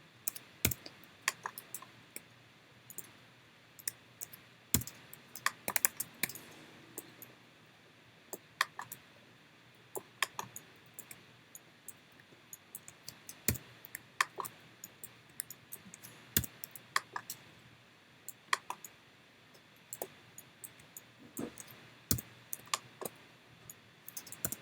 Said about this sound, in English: I'm pressing the G, clicking the G, G for repeat previous command.